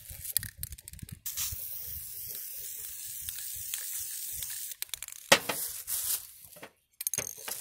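Bursts of spray paint hissing from an aerosol can, short and longer sprays broken by pauses and faint handling noises.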